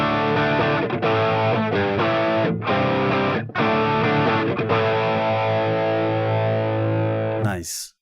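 Electric guitar run through a Boss Super OverDrive SD-1 plugin, an asymmetrical-clipping overdrive modeled on a driven tube amp, plays sustained chords that ring loud and saturated with a few brief breaks before fading out, with no talking.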